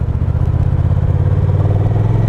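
A Honda Rebel 1100 cruiser motorcycle pulls away close by, its engine a loud, steady low throb with a rapid pulsing beat throughout.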